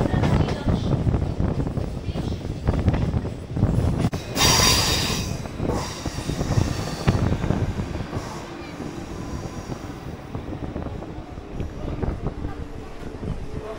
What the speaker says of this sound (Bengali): একদম শেষের দিকে যে লাইনটা রয়েছে সেটা দিয়ে বন্দে ভারত চলছে